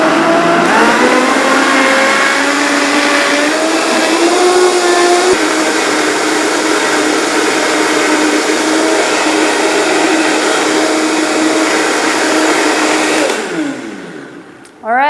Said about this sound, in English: let's blend this up. Now I've got a Vitamix with a tamper here so I can push this down.